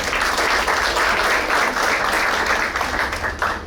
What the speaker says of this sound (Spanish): La recibimos con un fuerte aplauso, por favor.